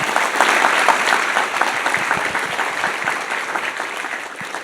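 Sustained audience applause at a university State of the University event in North Dakota, thick continuous clapping from many hands, loud at first and gradually easing off.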